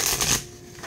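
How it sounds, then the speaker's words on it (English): A deck of cards is shuffled briefly and close up, a quick papery riffle burst that fades, with no talk over it. "I'm shuffling my last deck"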